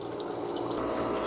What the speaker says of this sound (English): What you're hearing now is a little pump, and it's filling that up inside there.